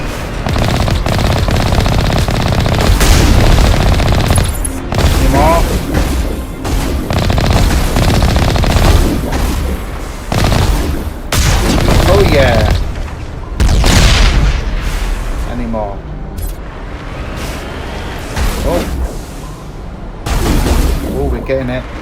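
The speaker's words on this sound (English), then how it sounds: "Check them out. Missile launchers." Mass Effect: Legendary Edition combat, with dense machine-gun fire, gunshots and booming missile-launcher blasts in sustained loud bursts throughout, broken by brief gaps, with a voice talking over the action.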